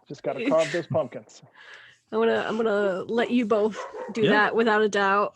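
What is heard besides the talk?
dogs barking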